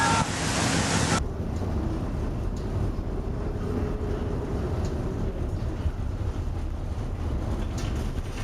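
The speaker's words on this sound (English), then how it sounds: "A large Greek chemical tanker has collided with giant waves in the North Sea." Giant North Sea storm waves pounding a large Greek chemical tanker, a loud continuous roaring wash of water and wind rumbling steadily throughout.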